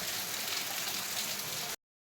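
Heavy rain pours down onto a surface in a steady, dense hiss that continues without a break and then cuts off abruptly.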